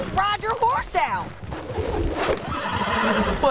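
A horse in the video game Red Dead Redemption 2 whinnies twice in quick succession, loud and close, followed by hoofbeats and a busy mix of shouting and movement.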